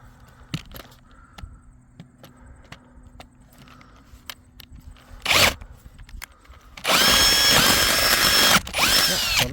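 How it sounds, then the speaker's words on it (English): A power drill boring a hole, first quiet shuffling and a few knocks with a short burst, then a loud whining drill run near the end, close by and without speech. "have a hole drilled right through"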